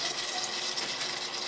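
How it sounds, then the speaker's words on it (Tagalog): Water poured into a pot of simmering sayote (chayote), a steady broadband splash and gush lasting about a second and a half, with no one speaking. "Dagdagan lang natin ng tubig."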